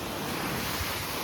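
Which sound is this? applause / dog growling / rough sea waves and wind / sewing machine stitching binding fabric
rough sea waves and wind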